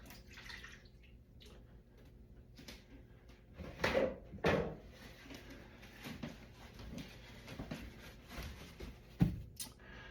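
Rummaging through a cluttered kitchen junk drawer, with scattered clinks, rattles and a couple of louder knocks and thumps as items are shoved around, fairly close and otherwise quiet.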